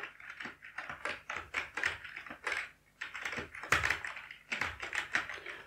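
Someone typing a file name on a computer keyboard, quiet bursts of rapid key taps with a brief pause in the middle, close and alone.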